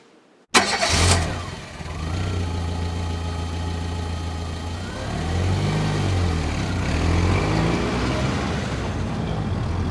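A car engine cranks and catches with a sudden loud burst in Quebec, then settles into a steady, close idle with slight swells in revs.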